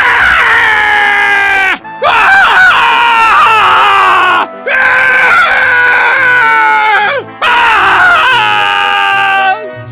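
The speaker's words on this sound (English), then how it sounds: "listen to Soldier's top tier amazing screaming" The Soldier from the video game Team Fortress 2 lets out loud, drawn-out screams in four long bursts separated by brief gaps, close and alone.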